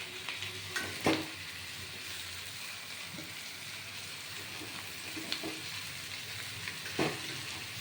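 Onion and tomato sizzle steadily in a hot pan, with a few sharp clinks and scrapes of a utensil stirring now and then.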